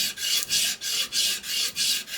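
A vintage chisel being flattened on rough sandpaper fixed with double-sided tape, giving rhythmic back-and-forth rasping strokes, about six close, loud scrapes alone without speech.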